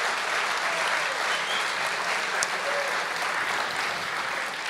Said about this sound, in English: Round of applause, please, for Julien.